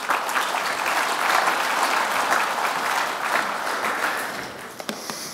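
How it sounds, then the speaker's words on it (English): An audience at a talk on digital education in Wales applauds a speaker, with dense, sustained clapping from a full room that stays loud before thinning to a few last claps at the end. "So a round of applause, ladies and gentlemen,"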